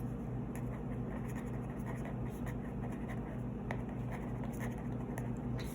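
Pen or pencil on paper writes out a math problem, soft scratchy strokes in short bursts, faint over a steady low background hum.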